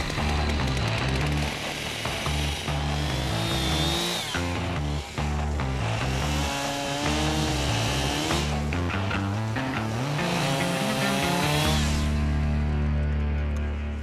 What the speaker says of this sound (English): I don't have the ability to jump out of the way of a chainsaw that may bounce around